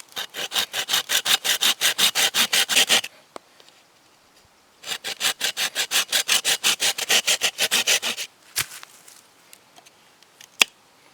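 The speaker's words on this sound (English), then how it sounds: "I'm going to cut these slots with a folding saw, make nice deep cuts" A folding saw cutting deep slots in bamboo for a rat trap, with two long bursts of fast rhythmic rasping strokes separated by a pause, then a few sharp knocks and scrapes.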